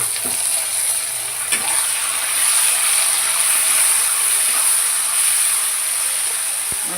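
Chopped onions, green chili and tomatoes sizzling in a pan for a village-style fish curry, a steady close frying hiss with occasional scraping and clicking from stirring, and no talk.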